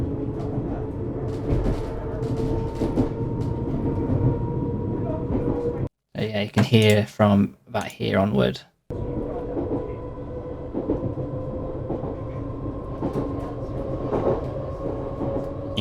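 A Class 484 electric train's traction motor accelerates in Train Sim World 2, a steady whining hum over rolling rail clatter. Someone speaks briefly partway through.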